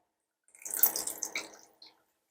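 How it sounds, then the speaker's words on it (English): Shredded cabbage being squeezed and massaged by hand for homemade sauerkraut gives a close, wet, crackly squelch lasting about a second and a half, ending in a brief final squish, with no talking. "you could also just massage it by squeezing it in your hand"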